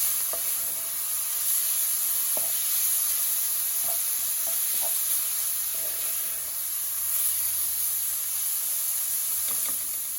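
Rasta pasta sauce with black pepper sizzles loudly and steadily in a hot pan, with scattered light scrapes and taps as it is stirred.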